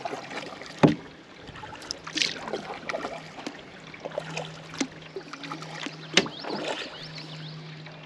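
A solo canoe is paddled on Bark Lake, with irregular soft paddle dips and water splashes, a few sharper knocks, and a low steady hum underneath; no one speaks.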